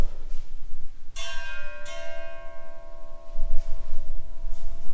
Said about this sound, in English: That's a really big doorbell.